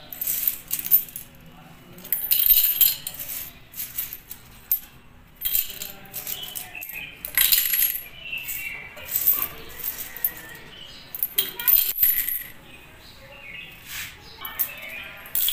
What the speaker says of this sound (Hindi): ये सारे सिक्के मैं एक ही शीशी में इस तरीके से भर दूंगी